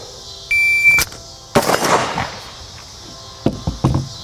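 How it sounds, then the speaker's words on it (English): A shot timer gives a sharp electronic beep, then a loud close pistol shot rings out. After a pause come three more quick shots in a tight burst, all part of an eyes, muzzle, target shooting drill, with no talk. "Let's run through the timer and see what we can do."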